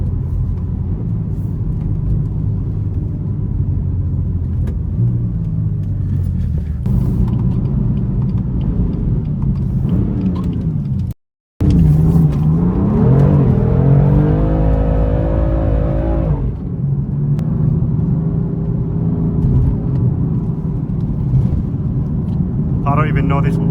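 A 500hp BMW M4 engine pulls hard along back roads, rumbling and revving up through rising pitch sweeps with a brief cut partway, loud and close from inside the car, with a voice talking over it.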